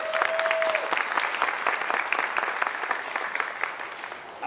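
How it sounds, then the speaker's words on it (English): A roomful of guests at a veterans honor society induction ceremony gives a round of applause, dense sustained clapping filling the space, fading slightly toward the end. "Please give them a round of applause."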